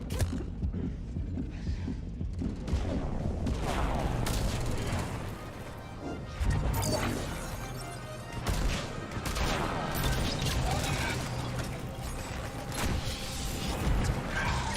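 Gunfire rattles in the video game Mass Effect 3, dense and loud, with bursts and mechanical clatter over continuous game noise and intermittent crashes, sustained throughout with brief dips.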